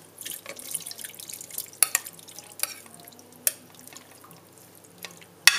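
Fruit juice strained off into a pan for a Christmas crumble tart, with soft drips and light spoon clinks at close range, a few sharper taps standing out over a quiet kitchen background.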